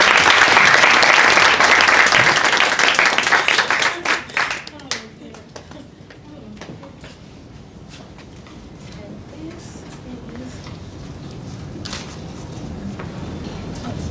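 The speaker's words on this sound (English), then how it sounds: "Ladies and gentlemen, let's applaud Gianna." Loud, dense applause from an audience at an awards event at Lincoln Center fills the first few seconds, then tapers off into scattered claps and quieter room murmur.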